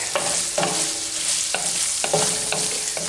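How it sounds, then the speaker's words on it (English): Ground beef browns in a cast iron pan with a steady, close sizzle, broken by periodic scraping stirs of a utensil against the iron at roughly half-second to one-second intervals. "this ground beef is just simply browned, and we are getting close to the point where it's actually cooked"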